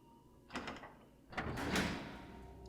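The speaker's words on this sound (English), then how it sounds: "I forgot that I opened that door." A door opening in the game Resident Evil 1 HD Remaster, with a short creak-and-clunk burst followed by a longer grinding slide, soft and close over faint background hum, with no talk.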